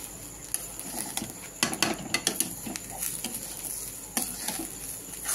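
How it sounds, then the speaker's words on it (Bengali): A spoon scrapes and knocks against a pot while moong dal khichuri with turmeric is stirred, giving irregular clinks and scrapes over a low, soft sizzle. "এবার আমি নাড়াচাড়া করবো"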